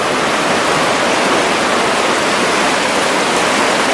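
Creek water flows into an ice tunnel beside a flooded mine shaft, making a steady, loud, close rushing roar that never lets up.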